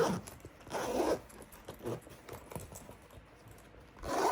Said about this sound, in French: Voilà, donc on a fixé notre zip tout autour. Donc maintenant, on va l'ouvrir.